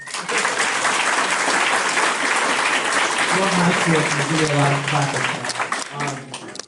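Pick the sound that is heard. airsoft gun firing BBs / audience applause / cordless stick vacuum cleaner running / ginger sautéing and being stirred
audience applause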